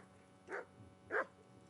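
A dog in the video game Kingdom Come Deliverance gives two short, soft barks or yips about half a second apart, fairly faint against a quiet background.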